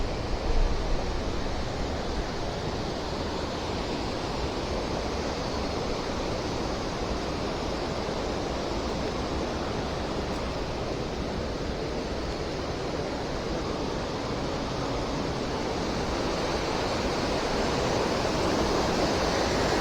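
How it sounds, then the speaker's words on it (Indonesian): A river rushes over big boulders left by a flash flood and landslide on a mountain route, a constant broadband roar with no pauses and no voices. "Ini kondisi sekarang seperti ini sungainya."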